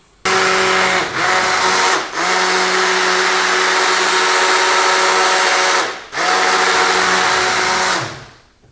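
A blender mixing apple pieces into juice, a loud, steady motor whine running close up for several seconds, dipping briefly a few times before cutting off.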